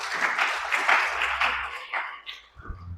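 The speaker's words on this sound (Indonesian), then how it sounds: "Tepuk tangan bagi Tuhan." Church congregation applauding during a sermon, a brief burst of clapping that rises and thins out over a few seconds, moderately loud and close, with a low hum underneath.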